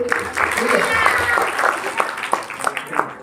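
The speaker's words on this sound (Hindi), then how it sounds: "तो तालियां के लिए" Applause for a children's performance at a village religious night gathering: loose clapping that tapers into scattered individual claps, with voices talking over it.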